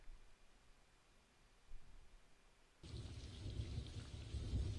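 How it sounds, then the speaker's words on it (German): Rain and thunder in the retro game Terra Incognita: a faint hiss of rainfall with a low rumble of thunder, then heavier rain swells in sharply and keeps building, steady and enveloping, with nobody talking. "Oh, Regen."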